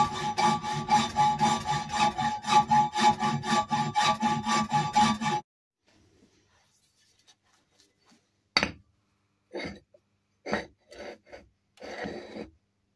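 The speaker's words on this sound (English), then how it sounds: "Hacksaw's just as efficient." A hacksaw cuts through a workpiece at a lathe workshop, rapid steady rasping back-and-forth strokes for about five seconds, followed by silence and a few scattered clinks and scrapes of handling.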